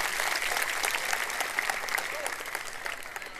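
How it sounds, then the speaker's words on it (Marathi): An audience at an outdoor political rally applauds, with dense, steady clapping from many people for a few seconds. The claps are moderately near, with a faint crowd murmur underneath. "त्यांचं टाळ्या वाजवून आपण अभिनंदन करूया"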